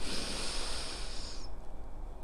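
A deep breath is drawn in during a hamstring stretch in a whole-body flexibility routine. The long, airy inhale is close to the mic and lasts about a second and a half, then gives way to near silence.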